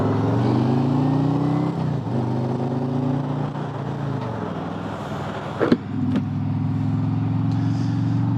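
A Harley-Davidson Road Glide Limited motorcycle engine drones on a ride, rising and falling as it shifts through gears, with wind rushing past and a brief clunk near the end. The sound is close, continuous and loud, and no one talks.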